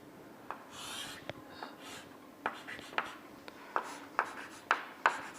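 A pen drawing a free body diagram of a beam span on paper, a series of short scratchy strokes and taps that grow more regular and distinct, close and alone with no talk.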